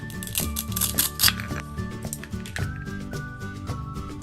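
A toy knife slices a toy strawberry in a play kitchen, a few small crisp clicks and scrapes heard over cheerful background music.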